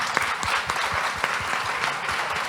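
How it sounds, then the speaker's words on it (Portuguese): Applause from a church congregation at a career fair event, steady clapping from a modest group of people, moderately loud and continuous with no talk over it. "Salve de palmas, Joyce."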